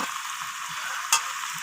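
Mutton curry with potatoes sizzles as it is stir-fried in a pan, a steady close crackle with one brief scrape of the spoon.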